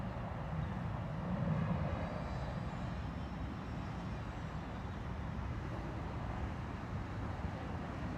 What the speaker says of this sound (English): Here comes some Delta Airlines, a Louis from Louisville, Kentucky, an Embraer E175 coming on down.